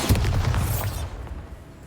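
A Bombarda spell explosion in the video game Hogwarts Legacy: a loud, close booming burst with a crackling impact that fades into a decaying rumble over about two seconds, with no talking.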